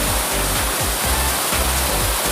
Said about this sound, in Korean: 여기 정말 시원한 폭포가 이렇게 내려오고 있어요